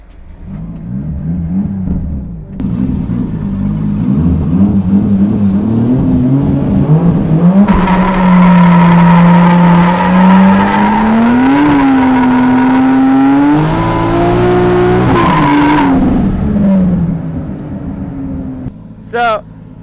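A car engine revs hard with tires squealing loudly through a burnout, rising and falling, then cutting off near the end.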